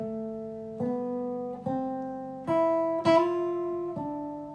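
A slow melody of clear sustained notes plays alone, one note roughly every second, with a tiny quick grace note squeezed in just before one beat.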